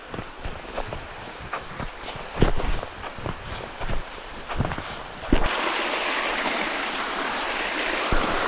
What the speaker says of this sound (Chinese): 我现在把干净的水转到水袋里。